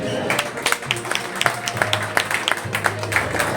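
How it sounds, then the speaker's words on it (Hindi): An audience at a community meeting in Preet Vihar applauds in a dense patter of claps from nearby, with a voice audible underneath. "मैं चाहूंगा उसके लिए सब लोग जोरदार तालियां बजाएं"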